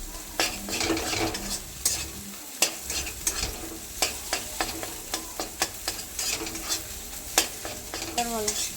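Eggs are stirred and fried into a scrambled egg bhujia, a continuous sizzle punctuated by frequent sharp scrapes and taps of a spatula against the pan, close and without talk.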